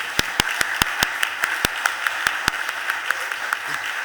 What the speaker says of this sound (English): Can we give them another round of applause, please, y'all, just because.